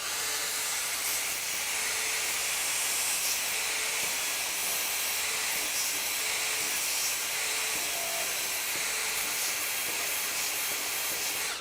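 A Makita XSB01Z 18V brushless belt sander, a 3/8 x 21 inch power file, cleans up a weld on tubing with its radius end, giving a steady, unbroken high hiss at close range with no talking.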